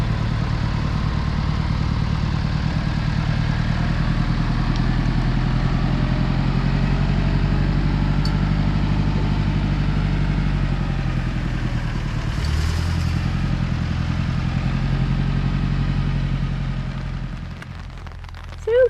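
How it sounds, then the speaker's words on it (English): A tractor engine runs steadily in the distance outdoors on a farm, a constant low rumble holding for most of the stretch before fading near the end, with no talking. "The tractor in the distance."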